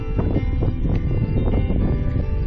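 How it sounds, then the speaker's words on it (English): Wind buffets a microphone at a lakeside campsite in Killarney Provincial Park, a loud, close, continuous rumbling gusting roar that dominates throughout. "It's a bit windy."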